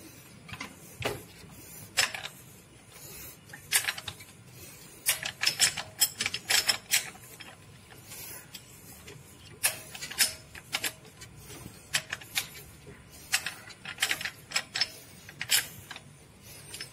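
Wrench ratcheting off the crankshaft pulley bolt of a Suzuki Jimny during a timing belt replacement, quick bursts of sharp metallic clicks in uneven groups, close and fairly quiet, with no talk.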